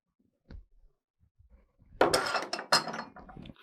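Steel plates and a bolt handled by hand, a faint tap first, then a cluster of loud metallic clinks and clattering knocks close up, with no talk.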